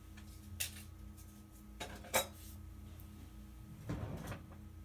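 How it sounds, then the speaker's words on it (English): Kitchen utensils knock and clatter in a few sharp, close bursts while someone rummages for a wooden spoon, with a quieter hum in the background and a short cluster of clinks near the end. "I've got to grab my wooden spoon real quick."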